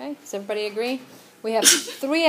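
In a classroom, someone gives one short, sharp sneeze in the middle of a teacher's ongoing math explanation, mostly covered by the talking.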